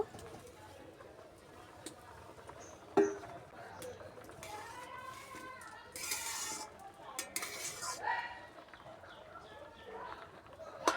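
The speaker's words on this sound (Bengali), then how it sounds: "ইলচি আর আলু সিদ্ধ হওয়ার জন্য ঢাকনা দিয়ে দিলাম এবার ঢাকনাটা তুলে নেব" A lid is lifted off a pot of boiled potatoes and ilchi, with a sharp metal clank followed by scattered clinks and scraping of utensils, close but fairly quiet, while birds coo softly in the background.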